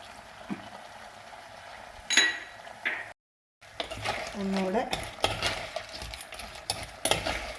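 Crab curry is stirred in a pan with repeated scraping and clinking strokes over a soft sizzle, briefly cutting to silence before the busy stirring resumes.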